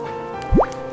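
A single water drop falls with a quick rising plip into cool spring water at a mountain temple, close and clear over a steady trickling, running-water background.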